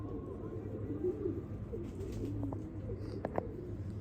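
Soft pigeon cooing sounds close by in a quiet outdoor setting, a few low throaty coos with faint chirps and a couple of sharp clicks near the end, with no one speaking.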